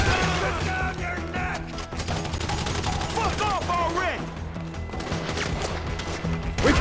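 Heavy gunfire in GTA 5, a dense fusillade of shots mixed with crashes and metallic clatter, loud and continuous, with shouting voices over it.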